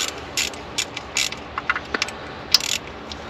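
Sharp ratchet clicks in short irregular bursts as a 10mm socket loosens a bolt on a BMW N52 engine during Valvetronic sensor work, close and alone without talk.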